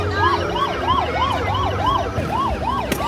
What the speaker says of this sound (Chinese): 还以为救护车呢，小朋友的宝马